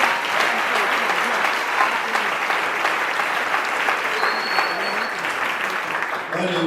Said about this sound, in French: On va acclamer fort pour le Seigneur Jésus.